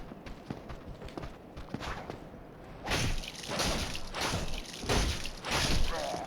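A giant metal pig walks in the video game Dark Souls Remastered, giving heavy, repeated clanking thuds in an uneven rhythm that grow louder partway through, mixed with whooshing game effects.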